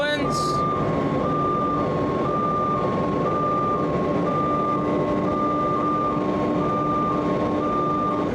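A boom truck runs out its front outriggers with a loud, steady engine and hydraulic drone close by, while a warning beep alternates continuously between two pitches throughout.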